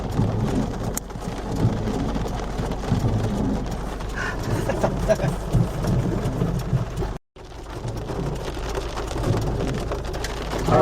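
Steady heavy rain pours down continuously on a road in Tabun, Cebu, Philippines, a dense close hiss of drops on surfaces with a brief dropout partway through.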